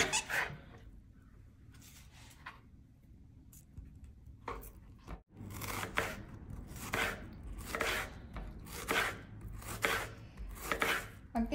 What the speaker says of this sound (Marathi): अगदी बारीक चिरायचं आपल्याला